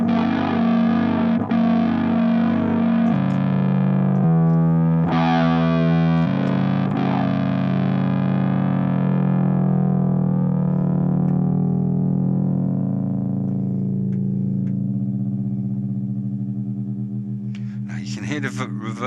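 An electric guitar run through the ring modulation effect of a BOSS GT-1000, giving a sustained, distorted, warbling tone whose metallic shimmer slowly fades, then a brief brighter flurry of notes at the end.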